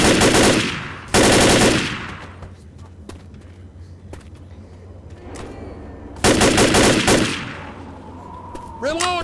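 Machine gun fire in the zombie video game Left 4 Dead, with long loud bursts of rapid shots separated by quieter stretches holding scattered single shots and game noises.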